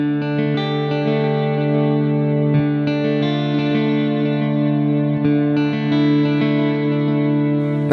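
Electric guitar played through distortion and chorus effects holds a static chord while an inner line steps up or down in a steady sequence, a sustained, loud, continuous tone with no talking.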